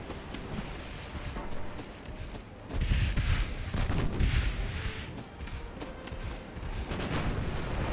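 Heavy battleship gunfire in the Ultimate Admiral: Dreadnoughts naval game, with 12-inch shells incoming. Deep booming blasts and rumbling impacts swell loudly around the three-second mark and continue over steady background noise. Someone talks intermittently throughout.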